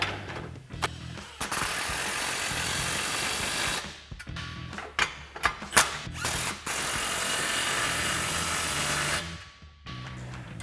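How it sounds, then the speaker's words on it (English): Power tool with a 15 mm socket tightening exhaust clamps on a Silverado 1500 dual exhaust install, heard as several close, loud whirring bursts broken by short clicks and pauses, with no talking. "So now grab your 15mm socket, tighten down your 2 clamps."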